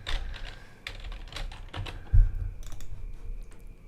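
Typing on a computer keyboard during game programming work, with several quick bursts of key presses and one sharper, heavier keystroke, close and clear with no talking.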